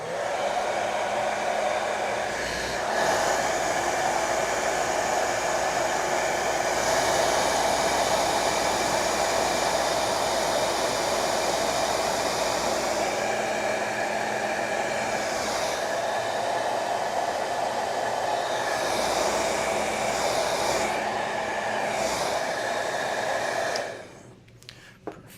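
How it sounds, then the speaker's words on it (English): A hair dryer blows steadily for about 24 seconds at close range to heat-shrink tubing over soldered motor wires, a constant whooshing roar that cuts off abruptly at the end. "I'm going to turn on the old hair dryer here just for a second"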